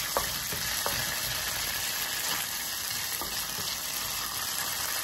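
Garlic and ginger frying in oil, a continuous close sizzle with scattered light pops and occasional ticks of a utensil, steady level with no talking over it.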